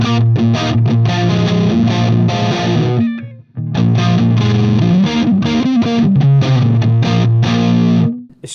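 Electric guitar through a Deliverance Synergy amp module with the reverb switched off plays heavy, low-tuned chugging riffs, dry and tight with abrupt stops and a brief gap midway, no voices.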